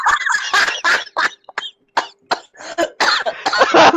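Repeated loud, close coughing from one person in a burst of harsh coughs with short gaps between them.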